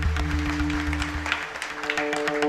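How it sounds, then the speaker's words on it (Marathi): Audience clapping at a Marathi kirtan, a dense steady patter of many hands sustained throughout, with a constant tonal hum of instruments underneath. "जोरदार टाळी वाजवा."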